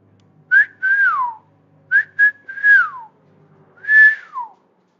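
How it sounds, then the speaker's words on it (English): A person whistles a clear, close melody in three short phrases, the notes chirping upward and then sliding down, with quiet pauses between. "That's me whistling at you, Horn."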